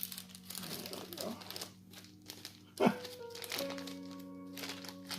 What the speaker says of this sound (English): It's a Ziploc freezer bag that they've cut the zipper off of.